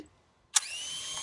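Small budget drone's motors spinning up after a quiet pause, a sudden burst followed by a steady high-pitched whine at close range.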